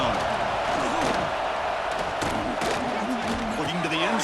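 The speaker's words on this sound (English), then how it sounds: "the crowd coming to life here trying to help this defense down in the red zone" A stadium crowd in a Michigan vs Ohio State college football video game roars steadily as the defense holds in the red zone, a loud continuous wash of cheering under a commentator's voice.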